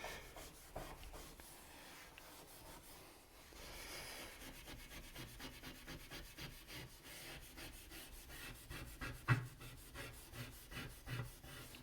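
Burnt grime scrubbed off a glass stove top: faint, continuous rhythmic rubbing and scraping strokes, quick and fairly even, heard close but quiet, with no voices.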